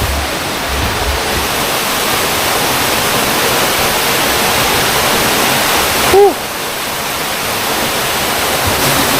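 Agbalala Falls in Abra de Ilog, Occidental Mindoro, a simple waterfall hidden among rocks, pours as a steady, loud, broadband rush throughout, with one brief faint chirp partway through and no talk.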